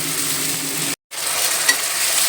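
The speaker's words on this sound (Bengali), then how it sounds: "পেস্টটা দিয়ে ভালো করে আদা রসুনটা কষিয়ে নেব" Ginger-garlic paste sautés in oil for a mutton curry, a loud close sizzle that runs steadily, cuts out for a moment midway, then resumes with a small stir sound.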